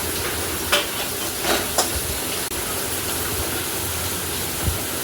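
Onion and tomatoes fry in oil in a pan, a constant loud sizzle close by, with a few soft scrapes of stirring and no voices.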